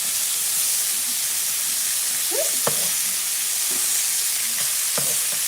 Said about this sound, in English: I'm gonna flip these over because these are frying up gorgeous